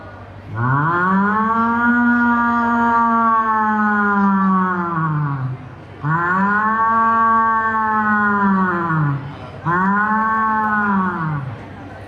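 A mimicry performer at the Kerala school arts festival imitates a cow, giving three long, deep moos, the first two drawn out and the last shorter, each with a rising then falling pitch.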